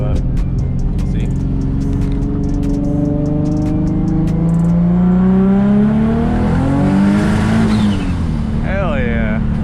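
An Audi R8 with a valvetronic exhaust and boost problems, loud and close, its engine droning at a steady pitch, then climbing as it accelerates hard and dropping off briefly near the end.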